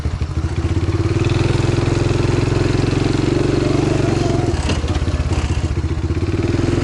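A motorized all-terrain vehicle's engine putters and revs as it pulls away, a steady close mechanical drone with clattering and thumps over the rough ground of a forest.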